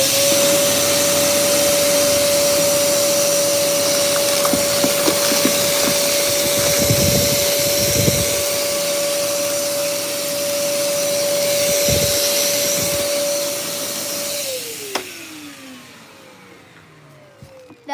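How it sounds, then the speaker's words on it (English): Vacuum cleaner running during a mess test, a loud steady whine and roar with crunchy bursts of debris being sucked up, then the motor winds down and falls quiet near the end. "That vacuum just shook my whole house."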